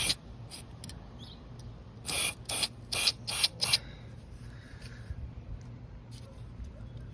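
Short squirts of spray cleaner hit the mass air flow sensor of an Audi Q5 2.0T through a straw. First a couple of quick bursts, then a rapid run of five close hisses, against a quiet garage background.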